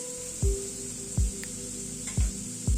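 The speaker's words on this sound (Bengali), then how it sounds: "আলুটাকে মিনিট 2 সময় ধরে একটু ভেজে নিলাম।" Potatoes frying in a pan for a chana tomato curry, a steady oily sizzle broken by four evenly spaced low thumps as they are stirred or tossed, no voices.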